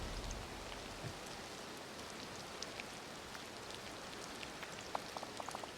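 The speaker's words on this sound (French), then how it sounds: "je ne m'habituerai sûrement jamais à cette pluie." Rain falls in the video game Disney Dreamlight Valley as a steady soft hiss with scattered light droplet ticks, even and continuous throughout, with no voices.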